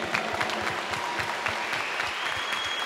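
An audience claps for a string and brass orchestra at a tribute concert honoring a priest, a lively mix of many hands with some rhythmic, close claps standing out over the crowd.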